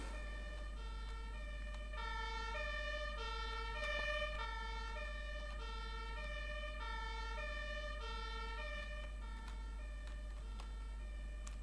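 An emergency vehicle siren in the Emergency 4 firefighting game plays a repeating wailing tone pattern. It cycles steadily and fairly quietly for the whole stretch, with a low background hum.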